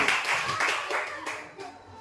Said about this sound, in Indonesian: Oke, tepuk tangan untuk Zikri.